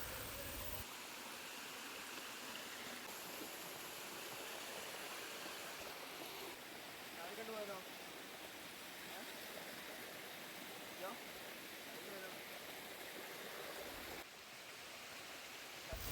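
Cold mountain water flows steadily, giving a faint, even, continuous rushing like a small stream, heard alone throughout.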